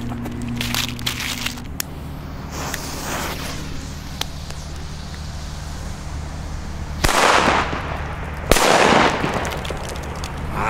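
New Year's Eve firecrackers from a Fire Event D go off outdoors, with scattered crackles and pops building into two loud, dense bursts of rapid crackling late on.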